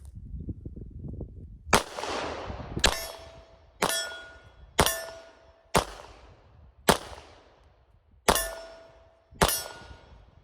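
Eight sharp .380 ACP pistol shots from a CZ vz. 38 on an outdoor range, spaced about a second apart with a slightly uneven rhythm. Each report is loud and close, with a metallic ring and a short decaying echo.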